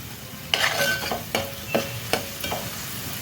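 Green chillies sautéing in a pan for a green chilli mutton dish: a close, steady sizzle broken by four or five sharp scraping strokes of a spatula at irregular intervals.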